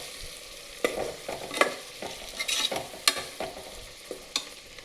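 Coriander powder and masala being sautéed in a pan for palak pulao, a soft sizzle broken by several scraping spatula strokes and clinks, close and moderately loud.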